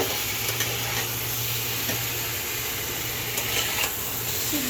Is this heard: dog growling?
no